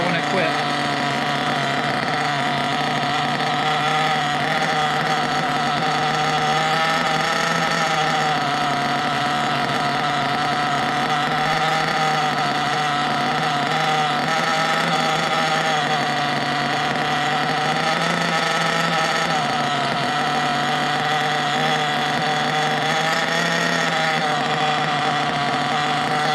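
A nitro engine running during break-in, a continuous loud buzzing drone with slightly wavering pitch that holds steady throughout, with a voice talking over it.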